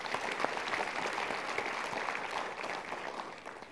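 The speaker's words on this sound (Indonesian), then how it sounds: "Kita berikan tepuk tangan dulu." Studio audience applause during a Mario Teguh Golden Ways motivational talk show, a dense, even wash of clapping from a crowd that holds steady throughout and fades slightly at the end.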